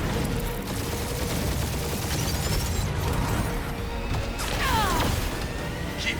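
Weapons barrage firing in Marvel's Guardians of the Galaxy on PS5, a dense, continuous wash of blasts and mechanical clatter with sweeping whooshes, loud and steady throughout.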